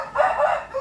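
Backyard hens cluck inside a coop, several short rising calls close and fairly loud, with nothing else heard.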